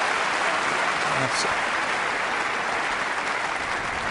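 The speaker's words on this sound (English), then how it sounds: "that will get a terrific round of applause" A snooker crowd gives a sustained round of applause for Ronnie O'Sullivan against Ding Junhui at the 2012 UK Masters, steady dense clapping, with a brief word of commentary over it.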